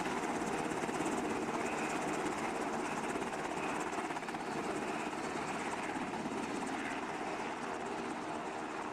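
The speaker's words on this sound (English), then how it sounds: "Looked like the helicopter was shooting them." A helicopter in a military video game drones with a constant rotor and engine roar at moderate level, with no pauses and no voices.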